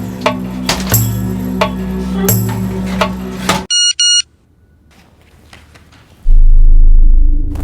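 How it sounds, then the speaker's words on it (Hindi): A mobile phone rings with an incoming call from a public call office in Mumbai, giving two short, loud electronic ring bursts after a stretch of music, followed by quiet and then a low rumble. "आरती, मुंबई के ही किसी पीसीओ से कॉल है, यासीन के सेल पर बज रहा है।"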